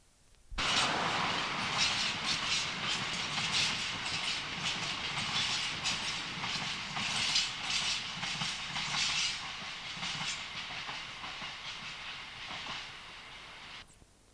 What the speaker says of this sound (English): Following the Nottingham-bound sprinter, this train of coal empties.